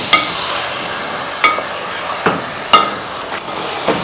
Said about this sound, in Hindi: चिकन को मैं भून रही हूँ।